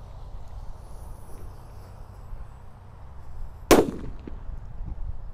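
Mini rocket firecrackers set off inside a hole in the ground give one sharp, loud bang partway through, with a brief decaying tail, over steady low outdoor background noise.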